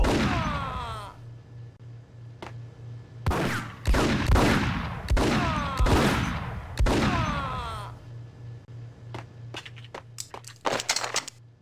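Gunfire in the video game Max Payne, bursts of sharp shots in rapid clusters with a low pulsing hum between them, close and loud, with no speech.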